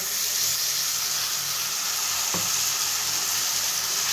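A ground spice paste sautés in hot oil for a rohu fish curry with potatoes, giving a dense, steady close sizzle throughout, broken once by a brief scrape of a spoon against the pan.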